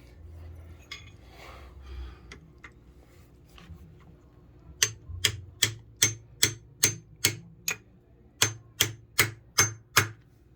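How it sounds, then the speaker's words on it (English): Metallic hammer strikes drive a coupler onto a washing machine motor shaft, a steady series of about a dozen sharp blows, close and evenly spaced, after a few lighter taps. "and hammer it on straight."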